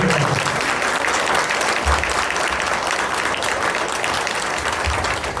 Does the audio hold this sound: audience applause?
yes